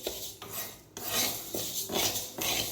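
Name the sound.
mung dal being dry-roasted and stirred in a pan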